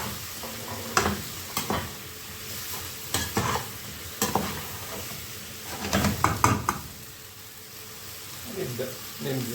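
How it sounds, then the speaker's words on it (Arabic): Potatoes and carrots for vegetable-and-meat couscous go into a hot, sizzling pot, with a steady fry hiss broken by repeated scraping stirs and bursts of spattering up close. "وهنبدأ ننزل بالخضار بتاعنا تاني، البطاطس والجزر"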